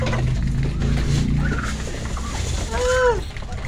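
Chickens and turkeys gobble and call together at morning feeding time, with a loud rising turkey gobble near the end over a steady low bustle of the flock.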